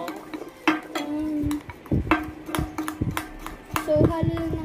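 Dalgona coffee mixture stirred by hand with a spoon, the metal spoon clinking and scraping against the bowl in irregular quick strokes, close up, while a person talks over it.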